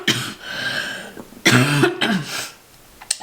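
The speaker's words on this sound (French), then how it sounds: "Mais voilà que je tousse." A person coughs and clears their throat several times in quick, raspy bursts close up, with short pauses between.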